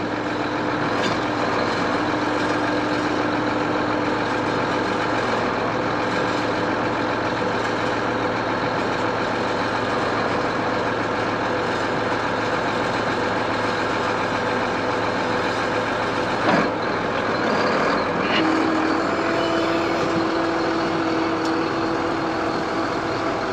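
A Case tractor engine drones steadily and loudly throughout, a continuous low mechanical roar with slight shifts in pitch.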